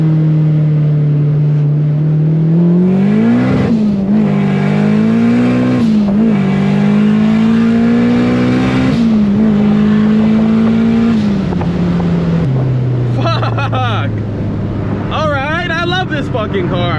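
A car accelerates hard up a single-lane freeway exit, its engine note climbing through several gears with short dips at each shift, loud and close from inside the cabin, then settling to a lower drone.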